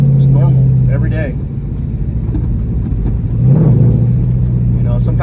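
A car engine hums steadily as it cruises through a residential neighborhood, with low rumble and a rise in revs near the end, under continuous talking.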